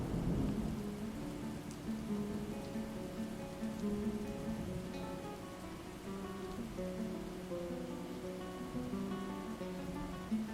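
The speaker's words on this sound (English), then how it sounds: "Oh, it's raining!" In the video game Dwarf Fortress, steady rain pours down with low rumbling thunder rolling underneath, while a soft melodic tune plays throughout.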